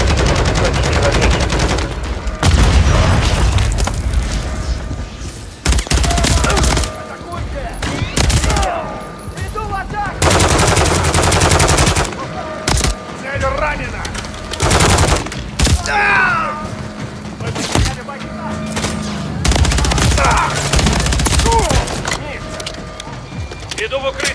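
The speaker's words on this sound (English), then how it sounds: "Took control of the turret." Turret machine gun firing in a Call of Duty: Modern Warfare 3 campaign battle, loud sustained bursts of automatic fire broken by short pauses, with explosions and radio voices talking over the gunfire.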